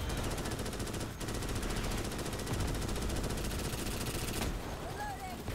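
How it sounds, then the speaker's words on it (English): Continuous rapid machine gun fire in the Starship Troopers: Extermination video game, a dense, steady rattle sustained for several seconds before cutting off, loud and alone with no talk over it. "Okay, machine gun it."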